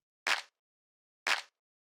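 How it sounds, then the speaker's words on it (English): A layered clap sample from a house music beat hits twice, evenly spaced about a second apart, each a crisp, bright, short burst standing alone in silence. "the next thing we have here is the clap, which is 2 layers"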